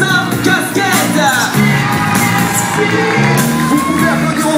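A children's concert audience cheers and whoops for a performer at the Vibra'mômes festival in Flers, a loud, dense crowd roar with shouts that holds steady throughout while sustained music plays underneath.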